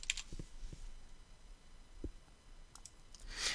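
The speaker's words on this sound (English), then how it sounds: "We can create a new group by clicking the Create New Group button" Mouse clicks on a software button in QuoteWerks business software, a few short sharp clicks spaced irregularly and fairly quiet, with no talking.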